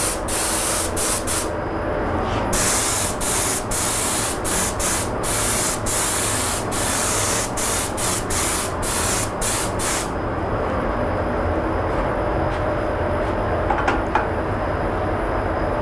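A spray gun hisses in short repeated bursts, then in one longer steady blast, as TransTint dye is sprayed onto a guitar finish, loud and close with no talk.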